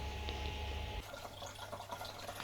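Water poured from a bucket back into a fish tank, heard as a steady close rush of liquid that shifts partway through into a splashier, bubbling pour, with no one speaking.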